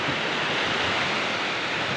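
Sea waves wash around a small fishing boat out on the water, a steady broad rushing roar with no breaks, close and fairly loud.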